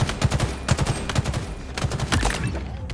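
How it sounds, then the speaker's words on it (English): Rapid bursts of gunfire from other players in a Halo Infinite Oddball match, dense overlapping volleys of shots crackling steadily throughout, loud and close with no talking. "you obviously hear other people shooting"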